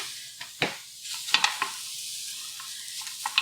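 Food cooks in a pan with a soft sizzle beneath scattered stirring and scraping clicks of a utensil against the pan, close by and fairly quiet, without any speech.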